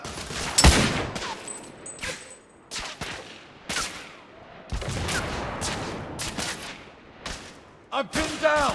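Enemy gunfire in The Order: 1886 rattles in sharp, loud bursts separated by short gaps, with a big blast near the start and shouting voices between the volleys.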